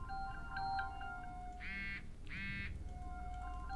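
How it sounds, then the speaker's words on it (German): A telephone rings twice in the game Contagion VR Outbreak, two clear electronic trills in close succession over a low background hum, with no talking. "Telefon klingelt ja auch."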